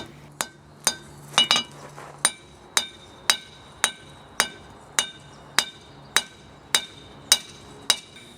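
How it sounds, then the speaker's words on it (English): A hammer forges a knife blank from an old file, drawing out the tip thin and pointed: about fourteen sharp, ringing metal strikes land at a steady, unhurried pace, close and clear, with no talk. "I'm forging this knife from an old file, hammering out the tip so it's pointy and thin."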